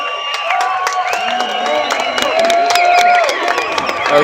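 A rowdy crowd at a truck invasion gathering claps and cheers, with shouts and whoops riding over scattered sharp claps, loud and close.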